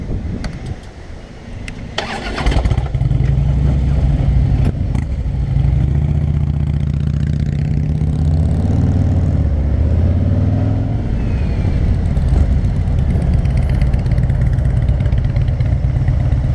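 A car engine rumbles up after a quiet start and keeps a loud, steady low drone with slight rises as it drives through downtown Wetaskiwin, Alberta. The motor and road noise fill the cabin with no talking.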